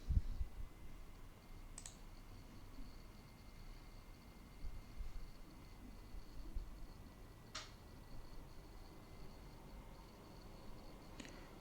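A computer mouse clicks in a quiet room, three sharp isolated clicks spread several seconds apart over a faint hum.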